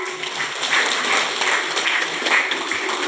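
Audience applause at a sixth-grade school graduation and farewell ceremony, a moderate round of scattered clapping that holds steady with some louder bursts.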